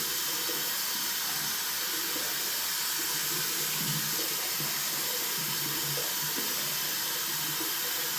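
A sink tap in an apartment bathroom runs steadily as the water warms, a constant close hissing rush with no voices.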